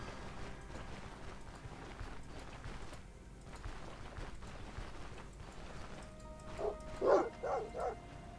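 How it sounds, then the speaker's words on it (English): Dogs barking in the video game Stoneshard, a short cluster of several sharp yips and barks near the end over a low ambient game background. "Frickin' dogs."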